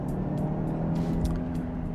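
A Jaguar E-Pace driven in sport mode, its engine a steady, even drone with a low rumble heard from inside the car, continuous and without talking.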